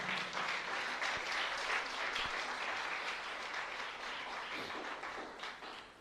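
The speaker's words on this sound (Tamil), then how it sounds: "நல்லா கைத்தட்டுங்க." Sustained applause from a crowd, dense and even throughout, moderately distant with a few sharper claps standing out.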